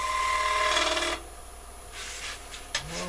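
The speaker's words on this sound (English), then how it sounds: "Just brushing this gouge around" A wood carving gouge brushes and scrapes over wood in a steady rasping stroke that stops abruptly, followed by fainter scraping and a small knock, close and moderately loud with no voices.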